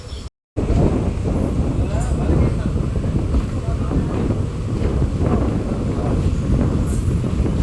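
Train pulling out of Mandapam Camp station after a one-minute halt on the Madurai to Rameshwaram line, a steady loud rumble of wheels with wind buffeting the microphone, a brief dropout near the start and occasional faint squeals.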